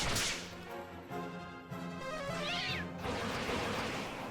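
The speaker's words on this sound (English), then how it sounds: "It even makes cat noises. Generic cat noises." Vampire cat enemies in Dragon Quest III HD-2D Remake let out generic meows during a turn-based battle, with a rising-and-falling cry near the middle over steady game music and effects.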